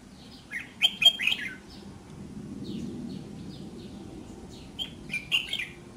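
A red-whiskered bulbul gives bright, clipped chirps in scattered bursts, close and clear, with pauses between phrases over a low, steady background rumble.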